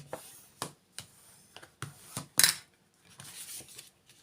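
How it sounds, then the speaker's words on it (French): A paper trimmer scoring fold lines in card stock, heard as a series of short, close scraping strokes with pauses between them, then a sharper burst and a softer rub at the end. "vous prenez votre massicot pour bien marquer vos plis"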